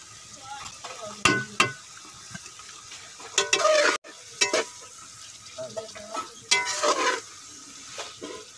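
Okra and mutton fry in a spiced masala while being stirred, with bursts of loud sizzling and scraping strokes at an uneven rhythm, close up.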